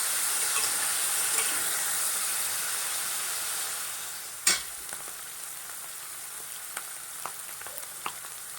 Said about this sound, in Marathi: तर याच्यात आपण पनीर भाजून घेऊया